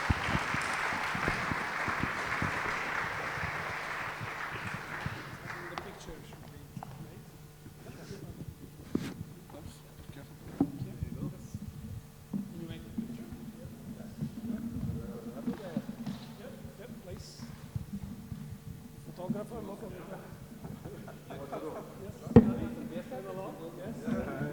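Applause from the audience at Latvia's FinTech forum session on access to funding fills the first few seconds as a burst of clapping, then fades as a person talks for the rest.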